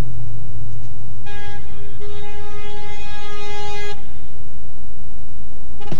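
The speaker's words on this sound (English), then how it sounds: "Ambulance! Can go for an emergency call." A cartoonish emergency siren from an ambulance in a Paw Patrol road-traffic video game, a steady multi-tone electronic wail that sounds for about three seconds mid-clip over a quiet background, with no talking.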